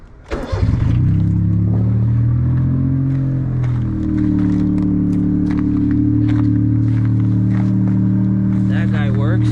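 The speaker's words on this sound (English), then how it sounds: "I'll turn the car on." A Honda Beat car engine cranks and catches, then settles into a steady, loud idle hum close by.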